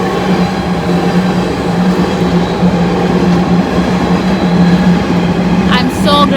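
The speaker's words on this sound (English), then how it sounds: "Train." A train passes in Yokohama, Japan on a snowy March day, its continuous close rumble and rail noise running the whole time, with a voice speaking over it.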